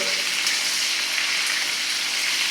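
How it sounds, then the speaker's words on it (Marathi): A paste of ginger, garlic and green chili fries in hot oil with a dense, steady, close sizzle that carries evenly from start to finish without pause. "आलं लसूण हिरवी मिरची ह्याचं वाटण घालून दिलं वा एकदम खमंग फोडून बसलेली आहे"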